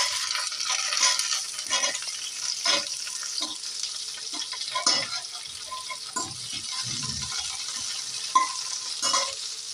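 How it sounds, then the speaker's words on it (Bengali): Chopped onion goes into hot oil with garlic cloves that are already frying, and it sizzles steadily close by with repeated scraping stirs. "সেই পেঁয়াজের কুচিগুলো দিয়ে দিচ্ছি।"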